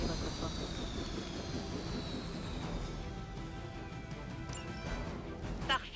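In the video game Marvel Midnight Suns, a helicopter is brought down with a dense, roaring rush of rotor and engine noise mixed with crashing debris, loud and continuous throughout, ending in a sharp impact.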